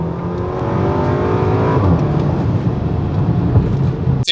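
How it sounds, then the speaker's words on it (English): A Porsche Macan 2.0T pulls out of a corner at full throttle, its engine note rising steadily and loudly from inside the cabin over several seconds, with a sharp bump at the end and no talking. "full throttle."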